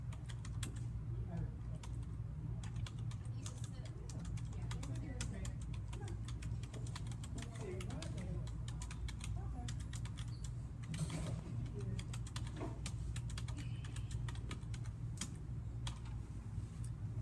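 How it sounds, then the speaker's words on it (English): Keys on a computer keyboard clatter in quick, irregular bursts over a steady low hum, with brief pauses between runs of close, light typing. "What you would do is you would type in"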